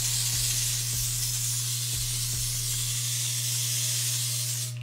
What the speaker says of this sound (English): spray that extra holding spray right here